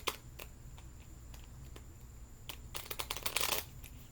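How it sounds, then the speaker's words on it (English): Quiet crisp riffling of a card deck, with a few soft taps, then a louder burst of shuffling near the end. "Shuffling them is not so great."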